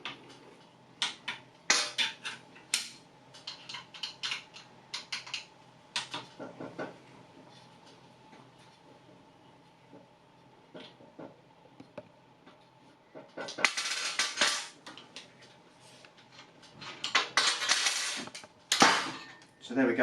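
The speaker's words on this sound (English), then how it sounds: "by taking this pivot bolt out here. It's two 5mm Allen keys that you'd have got with the scooter" Two 5mm Allen keys undo the pivot bolt on an aluminium Micro folding scooter, giving scattered close metallic clicks, scrapes and clinks in irregular bursts, with a louder rattling stretch near the end.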